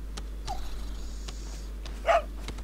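A dog in the Resident Evil 4 video game gives one short, sharp bark near the end, close by, over a low steady hum and a few faint clicks.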